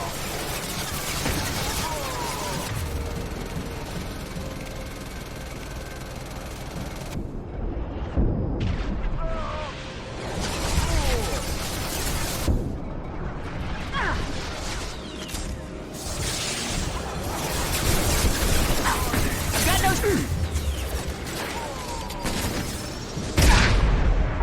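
Gunfire in Mass Effect 2 during a fight alongside a Krogan super soldier: repeated loud bursts and booming impacts, dense and irregular, over game music and intermittent voices.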